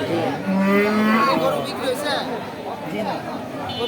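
Cattle at a busy livestock market moo with a long low call near the start, then further lowing mixes into steady crowd chatter and bargaining voices around them.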